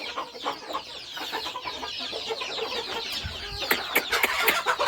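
Village chickens clucking close by, a scatter of short overlapping clucks and squawks growing busier toward the end, with no talk.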